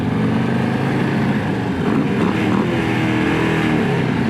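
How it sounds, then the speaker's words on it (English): A 2025 Harley-Davidson Low Rider ST High Output motorcycle engine revs steadily and loudly up close at a dealership, a sustained deep exhaust roar with no speech. "Of course, we got a rev bomb in here."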